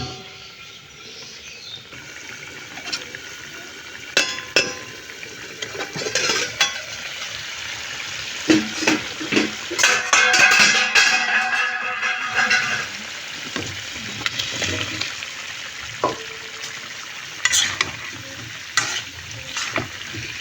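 Eggs cook and get stirred in a pan on a stove beside chopped pangas fish, with soft sizzling and intermittent scraping, clinking strokes of a utensil that grow busier midway.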